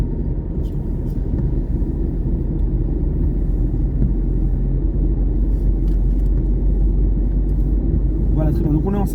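Car accelerating steadily on a road during a driving lesson, a loud continuous engine and road rumble filling the cabin throughout, with a voice speaking over it near the end.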